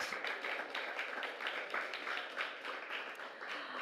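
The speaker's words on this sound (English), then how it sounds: "round of applause for our amazing artist" An audience at a panel session at the Nordic Pavilion during COP28 applauds an artist, a steady wash of many hands clapping at even loudness throughout, with no voices.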